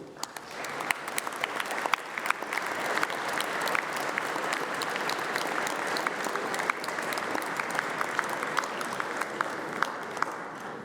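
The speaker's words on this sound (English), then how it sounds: "please stand up while we give you a round of applause" Sustained audience applause fills a graduation ceremony hall, dense and steady clapping from a large crowd continuing without pause throughout, with occasional sharper individual claps standing out.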